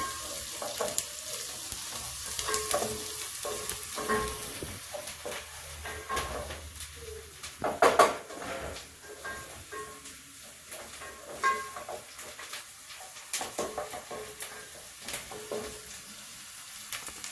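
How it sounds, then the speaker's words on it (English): Onions fry gently in a pan, giving a quiet, steady sizzle with occasional stirring scrapes and soft clatters, one louder clink midway, and no talking. "So as you can see, our onions are cooking. Give them a nice golden color."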